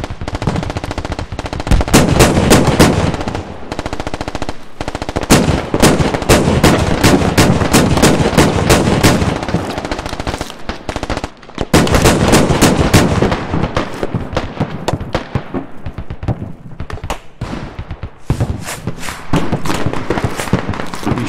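Dense automatic gunfire from the military shooter game Squad, loud and sustained in rapid bursts with brief pauses, running almost continuously throughout.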